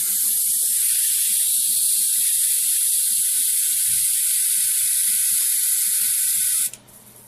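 Airbrush spraying thinned Vallejo Model Color paint, a steady close high-pitched hiss of air and paint running continuously for several seconds before cutting off abruptly, with faint low sounds underneath.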